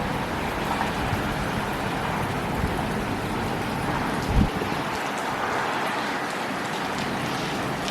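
Steady rain falling outside during a storm in Midland, Michigan, a dense continuous hiss with a brief louder thump midway, heard from indoors beside a balcony.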